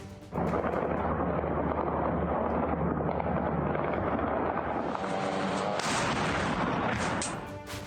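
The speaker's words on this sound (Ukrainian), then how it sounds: "Вітчизняна артилерія перетворює техніку окупантів на брухт" Heavy booming artillery fire rolls continuously, deep rumbling blasts layered with sharper cracks, loud and sustained without pause.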